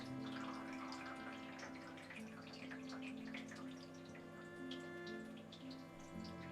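Water runs and splashes steadily in a darkroom as a large photographic print is placed into a tray of water, a continuous faint rinsing wash with a low background hum and no talk.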